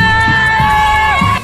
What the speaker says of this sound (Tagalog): Walang katapusang takbuhan, hiyawan, sigawan mga kapanalig.